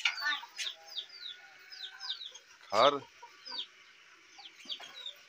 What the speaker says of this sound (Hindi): ये मुर्गा बंधा हुआ है।